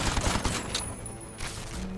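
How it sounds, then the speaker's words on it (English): A Gatling gun fires from a car in the turn-based game Aether & Iron. A short, muffled rattle of rapid shots is heard alone, then fades within about two seconds. "I'm going to shoot the Gatling gun behind me"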